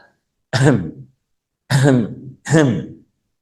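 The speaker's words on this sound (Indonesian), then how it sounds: "dehem 3 kali" Three distinct throat-clearing sounds, each a short rough burst, the second and third close together after a pause, fairly loud and close.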